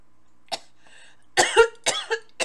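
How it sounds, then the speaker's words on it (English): An ailing, frail woman coughs in a told folk tale: a single cough, then a pause and a burst of several harsh, close coughs, with no other sound. "followed by a cough that shook her frail body"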